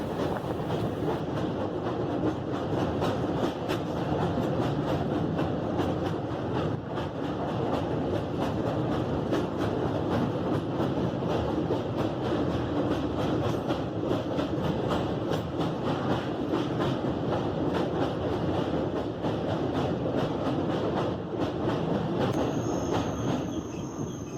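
A train runs steadily on the Lumding–Haflong hill line near the dried-up Dayang River bridge, with continuous loud wheel rumble, wagon rattle and occasional squeals throughout, close and without talk.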